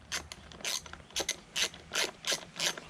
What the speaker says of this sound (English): I tighten that nut down to where it's pretty tight